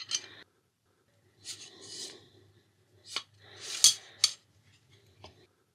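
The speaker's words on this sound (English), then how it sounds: "Push the barrel through the spring." A metal spring is pushed over the barrel of a Kalibrgun Cricket 2 air rifle during reassembly, giving several short, close scraping and rasping bursts separated by quiet gaps, with no talking.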